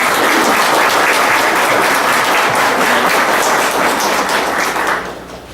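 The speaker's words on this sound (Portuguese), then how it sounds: "com uma grande salva de palmas também" Loud, dense applause from a congregation at a church festival honoring Saint Peter, sustained clapping that fades out near the end.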